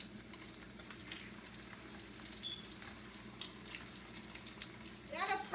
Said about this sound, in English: Take your time and rest it down in the oil. and let it fry away.